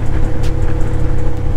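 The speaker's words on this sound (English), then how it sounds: "That exhaust is so loud." Loud, steady low engine and exhaust drone from a motorcycle riding along the Great Ocean Road in Victoria, heard close with wind rush and no pauses.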